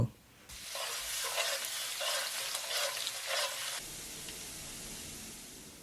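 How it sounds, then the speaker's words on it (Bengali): Chopped garlic and bay leaves fry in hot oil in a pot for a Bangladeshi beef bhuna, making a bright, even sizzle for about three seconds that stops abruptly, leaving quiet room tone. "এরপর আমরা রসুন কুচি দিয়ে রসুনে হালকা কালার হওয়া পর্যন্ত ভেজে নেব"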